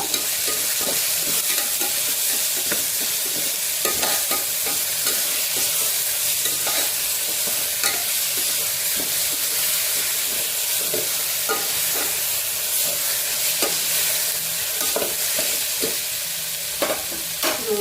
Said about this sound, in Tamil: இதில் போட்டு நல்லா வதக்குங்க